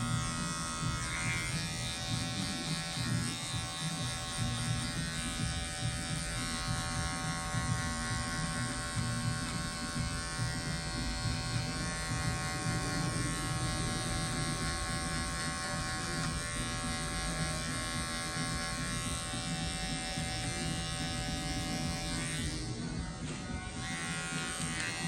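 An electric hair clipper with a 3 mm guard and its lever fully open runs steadily as it cuts hair for a classic taper fade. The buzz is continuous, close and fairly loud, with no talk over it.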